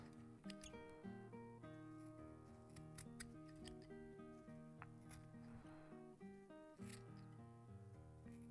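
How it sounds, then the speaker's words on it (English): Scissors snip and trim a pellet fly, a series of quick, crisp cuts scattered irregularly over continuous background music. "Coming in with the scissors for the final shape now."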